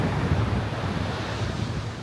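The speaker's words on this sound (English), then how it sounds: "the Atlantic is very loud today" Loud, steady roar of Atlantic Ocean surf at Albufeira, Portugal, with wind buffeting the microphone, a constant rushing wash of breaking waves.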